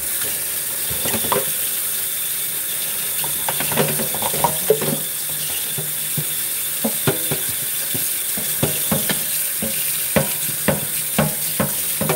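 Stewed chicken and gravy being spooned into a bowl of rice, with scattered clinks and scrapes over a faint sizzling, watery kitchen background. No one speaks.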